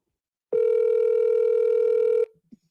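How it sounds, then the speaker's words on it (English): A telephone tone on a call being placed, a single steady electronic tone lasting under two seconds and fairly loud, then a brief faint click after it. "Let's get Rain on the phone."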